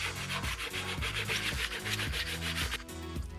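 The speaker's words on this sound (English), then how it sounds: "you can grab some sandpaper and sand smooth" Sandpaper rubs dried wood filler smooth on a pine tray in quick, even back-and-forth strokes. The close, rhythmic scratching runs continuously without any voices.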